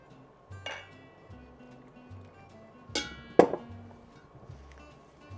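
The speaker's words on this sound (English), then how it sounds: "So I'm gonna mix this all up." Hand-stirring hot fudge chocolate pudding cake batter with milk from a vintage 1970s recipe, no whisk: soft scraping with a few sharp clinks of a utensil against the bowl, close and fairly quiet.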